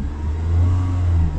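A 2000 Holden Astra with a Z18XE engine and a failed mass airflow sensor revs up and holds, a steady loud engine drone rising slightly midway and staying close for the whole stretch.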